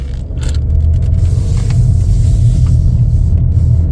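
A 2025 Chevrolet Equinox LT drives on the road, heard from inside as a steady, loud, low engine and road rumble with faint light rattles and no talk.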